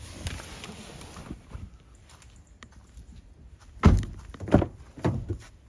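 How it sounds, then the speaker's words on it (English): Bonnet of a 2018 Ford Ranger 3.2 TDCi Wildtrak automatic is released and lifted, giving a few dull thunks and latch clunks close by, with the loudest knocks bunched near the end and no talking over them. "let's pop the bonnet"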